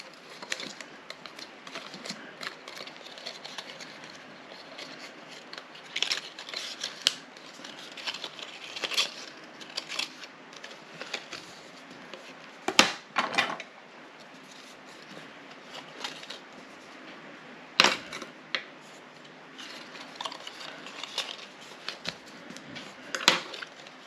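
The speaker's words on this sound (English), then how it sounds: "It's time to do all our burnishing on these two pieces and gluing them together." Paper craft pieces for a hot chocolate mug model are folded and burnished by hand, giving soft continuous rubbing and scraping with scattered sharper taps and creases, close and fairly quiet.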